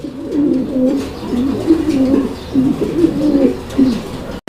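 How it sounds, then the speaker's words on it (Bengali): A pair of grizzle pigeons cooing close up, repeated low throaty rolling coos in several bursts with brief pauses between them. "এটাও গ্রিজেল কবুতরের একটা জোড়া মাগার এটা হচ্ছে আফসান গ্রিজেলের একটা জোড়া"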